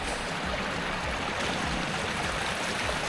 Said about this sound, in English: Flow of lovely clear water coming up out of the rocks.